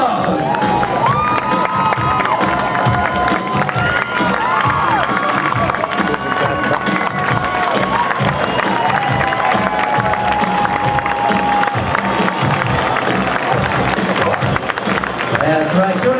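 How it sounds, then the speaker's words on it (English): A crowd at a national show ski tournament cheers and claps continuously for a one-footed water skier, with shouts and children's voices mixed into a dense roar while an announcer talks over it. "Let's give her a big round of applause."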